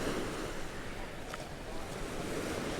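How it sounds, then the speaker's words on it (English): Sea waves washing over the pebble beach at Brighton, a continuous low rushing surf with gusty wind noise on the microphone and no voices. "Instead of the waves coming back up and then going back down. And all the pebbles being moved by it."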